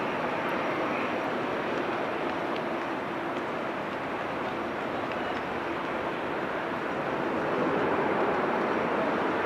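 A Turkish Airlines Airbus A330 at an airport gives off a constant broadband engine roar, steady and moderately distant, with no pauses across the whole stretch.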